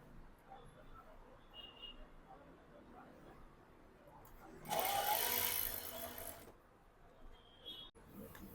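Sewing machine stitching a folded seam on a heavy-size collar blouse, a dense, loud burst of running stitches about two seconds long rising out of a quiet room, then fading back to low background.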